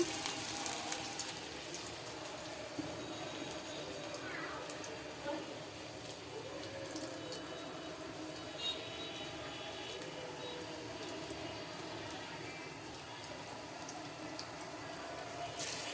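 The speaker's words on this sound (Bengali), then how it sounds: "এই তো এক এক করে সব তেলে দিচ্ছে" Lentil fritters (bora) fry in oil with a continuous hissing sizzle and soft bubbling that holds steady at a moderate level throughout.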